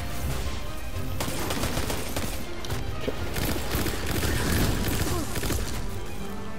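Rapid automatic gunfire from a weapon in the Destiny 2 video game, a dense unbroken stream of loud shots and impacts running through the whole stretch, with no talking over it.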